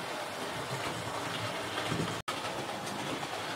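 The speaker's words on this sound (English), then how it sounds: "I will watch this locomotive again coming through going past the signal box and through the level crossing" A Hornby GWR express passenger model locomotive runs along the track, giving a steady, close rolling rumble with faint clickety-clack from the wheels and no talking.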